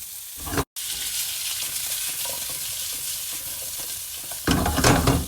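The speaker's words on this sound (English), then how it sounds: "we are going to leave it to cook on his own fat very slowly" Guanciale frying slowly in its own fat over very low heat for a carbonara, a steady close crackling sizzle throughout, briefly cut at the start and growing louder near the end.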